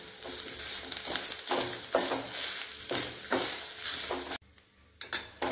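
Coconut being sautéed in a pan for brinjal tamarind gravy, a rhythmic series of stirring scrapes over a light sizzle, close and unaccompanied, stopping abruptly near the end.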